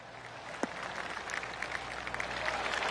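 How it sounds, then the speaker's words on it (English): Spectators at a PGA Championship at Quail Hollow Club in a golf video game give scattered, light golf claps that build softly toward the end, heard at a distance over quiet course ambience. "Oh, I can hear the golf claps around the course."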